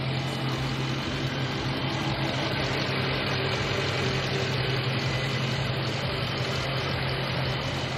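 A 2018 Dodge Charger R/T 392 engine idles without pause, a low rumbling hum with a faint rhythmic knock throughout.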